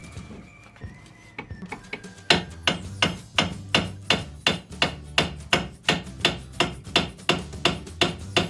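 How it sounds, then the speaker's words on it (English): Repeated hammer blows tapping a car's front suspension arm into place, a few light taps building into a steady rhythm of sharp metallic strikes, loud and close. "If necessary, use a hammer to fit it in the right position."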